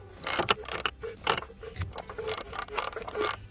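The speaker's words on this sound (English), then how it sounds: "so I'm supposed to be able to hand tighten it" An oil filter on a Range Rover L322 engine is tightened by hand, giving irregular close clicking, ratcheting and scraping of metal and plastic in quick bursts, with no talk.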